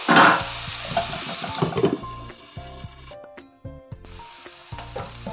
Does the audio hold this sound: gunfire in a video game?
no